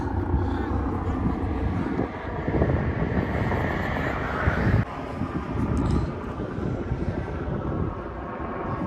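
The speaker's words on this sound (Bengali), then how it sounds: "আজকে সাগরের পরে যাওয়ার পর দেখলাম মাথার উপর দিয়ে হেলিকপ্টার যাইতে আছে।" A helicopter flies low overhead along the seashore. Its steady, loud rotor and engine roar fills the whole stretch, rising briefly near the middle, and wind buffets the microphone.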